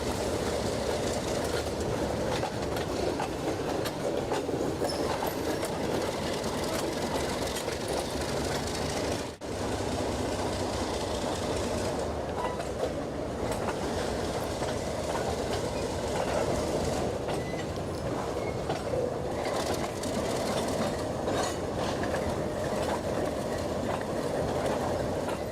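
A transfer train hauled by Alco diesel locomotives rolls past eastbound, with a steady rumble and rhythmic clickety-clack of wheels on rails, loud and continuous for the whole stretch.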